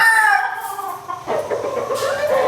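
A gamecock rooster crows loudly and close by, its long call falling and breaking off before a second, rougher crow follows.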